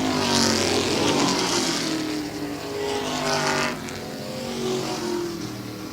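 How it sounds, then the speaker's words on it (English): Race cars at speed on a track, engines roaring and swelling as they pass in a few loud waves, the pitch sliding as each car approaches and moves away, with no talk. "Here comes that 3 car of Seren on the outside."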